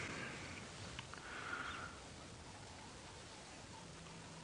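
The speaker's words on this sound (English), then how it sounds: "Oh, the wind is picking up again." Wind gusting across an open African savanna during a morning game drive after rain, a steady broadband rush with a brief swell near the middle, no voices.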